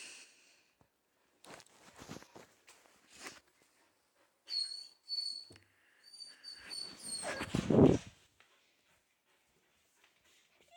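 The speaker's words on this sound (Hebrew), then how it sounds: "סליחה על הרעשים, זה הכלבים שלי" Pet dogs make scattered noises, a few soft yelps and a louder bark-like burst near the end, with gaps of quiet between them and a faint whistle-like tone in the background.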